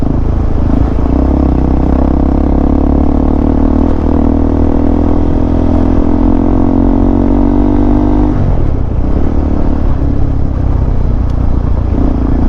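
A KTM ADV 390 motorcycle engine on a rough trail roars loudly and continuously, rising steadily in pitch as it revs, then drops and rumbles on with rattling clatter beneath.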